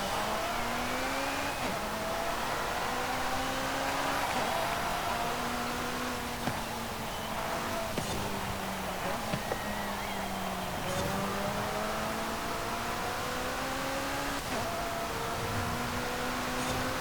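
A 2021 McLaren 620R in Forza Horizon 5 revs and accelerates steadily, its engine tone rising and falling through gear changes in a continuous loud drone with no one talking.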